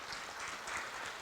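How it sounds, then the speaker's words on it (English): An audience claps steadily at a foundation celebration, a dense, even wash of hands that stays fairly quiet and close throughout the short burst. "Clap that up"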